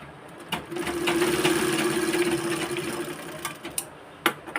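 An overlock sewing machine runs steadily while serging the edge of a short-sleeved blouse, a close, continuous mechanical whir with a buzzing hum that starts after a brief pause and stops with a few clicks at the end.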